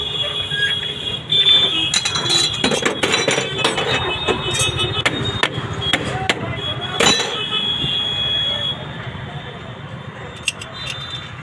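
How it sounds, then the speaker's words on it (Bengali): Tools fit a check nut, giving sharp metallic clinks and taps scattered irregularly over a low background rumble. "দেখুন একটা চেক নাট লাগিয়ে দিচ্ছি, তাতেই কাজ হয়ে যাবে।"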